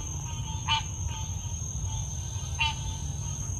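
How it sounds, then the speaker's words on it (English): Frogs and birds call in a Florida swamp: a steady high insect-like drone with a few brief, chirping bursts repeating at an even interval, fairly faint and with no talk. "These frogs and birds are singing the Dead by Daylight killer theme."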